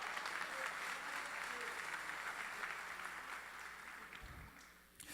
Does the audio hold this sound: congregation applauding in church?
yes